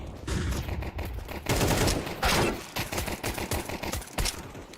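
USP pistol fire in a competitive video game match, a rapid scatter of sharp gunshot cracks among other weapons fire, loud and busy throughout.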